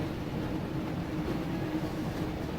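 Steady low rumble of a train in the Harry Potter Chamber of Secrets PS1 video game, a continuous dense rolling roar that holds evenly throughout without talk.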